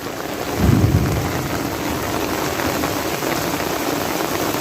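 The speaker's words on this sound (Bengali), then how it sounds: "মারাত্মক বৃষ্টি নেমে উঠছে" Torrential rain pours down in a village on a rainy fishing day, a loud, unbroken wash of rain with a brief low thump or rumble near the start and no voices.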